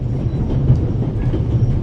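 Passenger train running, a steady low rumble and rolling hum with faint rhythmic clatter, close and continuous without a break.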